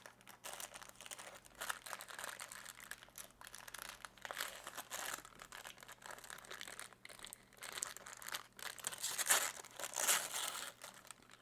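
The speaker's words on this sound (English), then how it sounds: "Let's put this tissue paper aside here." Tissue paper from a Star Wars The Black Series Darth Malgus figure box is crumpled and handled up close, giving a long run of crisp, irregular crinkles that grow louder toward the end.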